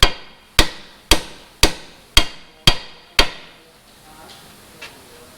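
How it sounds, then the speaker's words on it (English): Seven sharp metallic hammer blows knocking out a car's lower control arm bolt, evenly spaced about half a second apart and ringing briefly, followed by fainter taps. "Time to get a big hammer."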